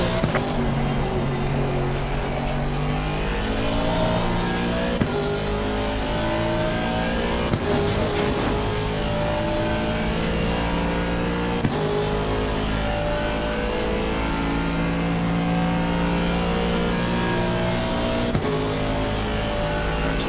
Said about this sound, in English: Hopefully you can hear me clear enough over the engine.